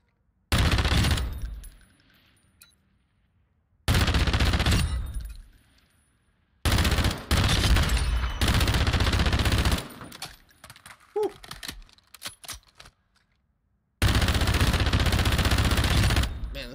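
Automatic weapon fire in the Modern Warfare 2 firing range: four loud, sustained bursts separated by silent gaps, with faint mechanical handling sounds between the third and fourth bursts.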